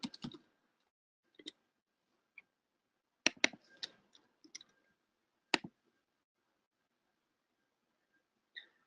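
Sharp, isolated computer mouse clicks in a quiet room, some single and some in quick doubles or clusters, spaced irregularly and heard alone with no talking.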